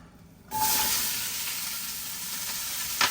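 Vegetables dropped into hot rendered pot roast fat at the bottom of a pot burst into a sudden loud sizzle, then settle into a steady frying hiss with a small clatter near the end.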